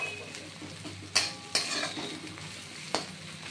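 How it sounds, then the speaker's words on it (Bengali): Onion and coconut fry with panch phoron in a pan, a soft sizzle under a few sharp metallic taps and scrapes of a spoon stirring against the pan, close but quiet, with no talking. "পেঁয়াজ আর নারকেলটা পাঁচফোড়নের সাথে ভেজে দিচ্ছি"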